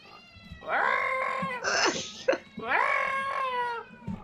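A cat in the video game Farming Simulator lets out two long, loud, drawn-out meows close by, with a brief higher squeal between them.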